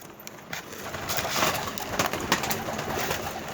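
Tumbler pigeon cooing and bird calls over a noisy, rustling background, with several brief clattering bursts throughout.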